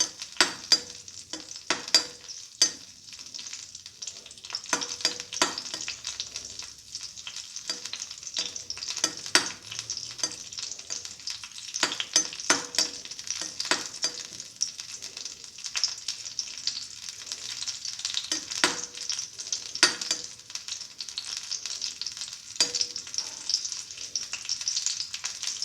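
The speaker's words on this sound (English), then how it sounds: "Keep on sauteing until the raisins swell up." Raisins sautéing in a pan make a quiet, continuous sizzle broken by frequent irregular stirring scrapes and taps that go on for the whole stretch, with no voices.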